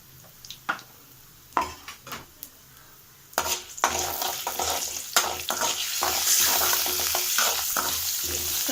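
Split dal and a generous pinch of asafoetida frying and being stirred in a pan for homemade shark fish scramble, with scattered spoon scrapes and clinks building into a steady close hiss and sizzle.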